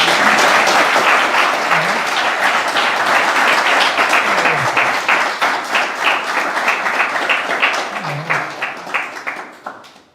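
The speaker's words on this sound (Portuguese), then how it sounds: "Dê uma salva de palmas para Jesus" A church congregation claps for Jesus in a loud, dense round of applause that holds steady, then thins into separate claps and fades out toward the end.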